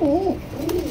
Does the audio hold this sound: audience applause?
no